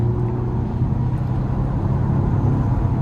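A 2022 Mazda CX-5 Turbo accelerating hard to pass, heard as a steady, loud low engine and road drone that holds without a break for the whole stretch, with no talking over it.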